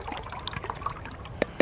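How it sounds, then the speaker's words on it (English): Water poured into a Mountain House breakfast hash food pouch, a soft close trickle with small splashes and a couple of sharper drips near the end. "we're going to completely fill this with 10 ounces of water"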